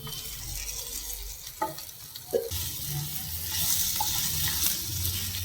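Sizzling from a frying pan as a cup of boiled potato is stirred into oil with asafoetida for aloo bonda filling, with a couple of sharp scraping clacks and a steady frying hiss that grows stronger; no one talks.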